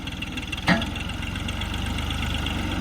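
A close engine is held at steady throttle, pulsing with a fast, even throb after a brief click near the start.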